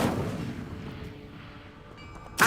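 Incendio fire spell from the video game Hogwarts Legacy: a loud burst fading into a crackling tail, then a sharp second hit at the end.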